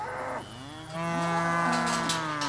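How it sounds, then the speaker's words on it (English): Cattle moo in a pasture, a long, loud, drawn-out bovine call close by that rises and holds steady, with another lowing voice underneath and faint outdoor background. "cows are happy."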